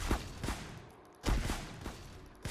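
Gunfire in the video game Dead Rails, with two separate bursts of shots roughly a second apart. Each burst starts with a sharp, fairly loud crack and tails off, with no talking in between.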